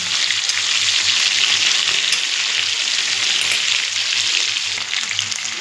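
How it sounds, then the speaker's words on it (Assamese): Fish frying in a pan in a home kitchen, a loud, steady crackling sizzle that fills the whole clip without letup, with no voices over it. "মাছ ফ্ৰাই কৰি আছোঁ"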